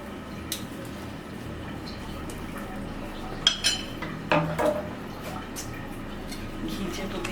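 Spoon scraping and clinking in a pot while chicken biryani is stirred with ghee, a few sharper metallic knocks standing out midway over a steady low kitchen background, with a voice speaking.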